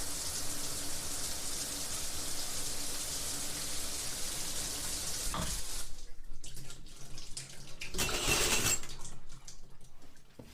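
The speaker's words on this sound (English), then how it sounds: "Sergeant Major Edward Mueller reluctantly turned off his shower before grabbing a towel from the nearby rack" A shower runs as a steady, full hiss of falling water, then cuts off partway through, leaving a brief quieter stretch before another short burst of splashing.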